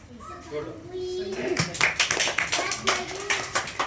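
Schoolchildren at a classroom quiz burst into lively applause, the clapping building from a quiet start into a run of loud, uneven claps close by, with a voice talking underneath at first.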